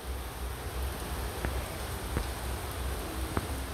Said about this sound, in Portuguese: tá caindo água